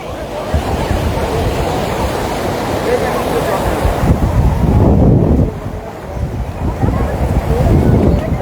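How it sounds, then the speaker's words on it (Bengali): Strong sea waves surge and break at the Digha river mouth, a loud continuous roar of surf mixed with heavy wind buffeting the microphone, swelling midway. "জলের কি স্পিড, কি ঢেউ, খুব জোরে জোরে ঢেউগুলো আসছে।"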